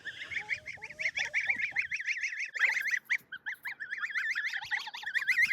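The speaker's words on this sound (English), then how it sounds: "if you can probably hear them whistling down here, are my little goslings" Goslings give repeated rapid high whistling peeps in a continuous wavering series, close by, with a few lower honks early on.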